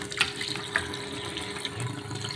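Water runs from a tap during the cleaning of a lower water tank, a soft continuous splashing stream with a few small drips and knocks, fairly quiet and close.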